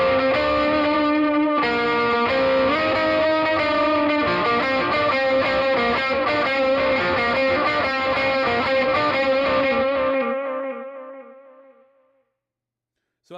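An electric guitar on the neck pickup through a Deranged Master treble booster and delay, gritty and bright, plays a melodic phrase, notes echoing and trailing off into silence at the end.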